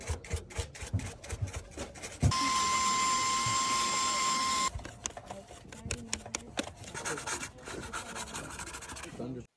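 Scrubbing of a retro game console with an old toothbrush: a steady, loud rasping burst of a couple of seconds with a whining tone over it, between quicker brushing strokes, while people talk throughout.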